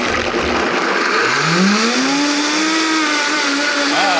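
A blender purees salsa verde with a loud, continuous motor whir that rises and shifts pitch as it runs, close up and with no talking.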